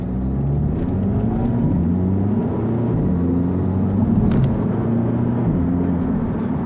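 A loud 2014 Audi TT 45 TFSI sports car engine rumbles and revs continuously, deep throbbing pulses rising and falling close by, with no voices.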